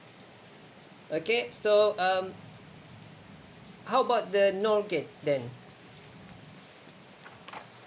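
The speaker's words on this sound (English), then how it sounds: "despite the rain outside" Steady rain falling outside, a constant soft hiss running underneath throughout while someone speaks in short phrases over it.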